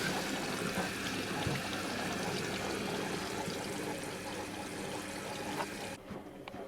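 Water leaking and trickling, a steady close wash of running water that continues without a break and then drops away abruptly near the end.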